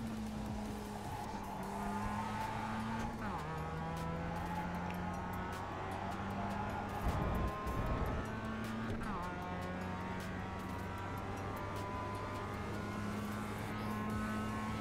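A Mazda race car in a racing video game runs at steady engine drone with gear shifts while its tires skid and squeal as it slides, the engine note loud and continuous throughout.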